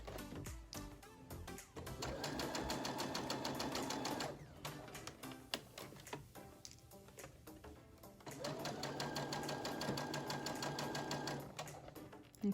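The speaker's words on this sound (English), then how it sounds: "So we're going to start at the first end. We're going to backstitch, remove the pins as we go." Sewing machine stitching an embroidered fabric face mask with backstitching, running in two long steady bursts with a pause between, close and loud, with no talk.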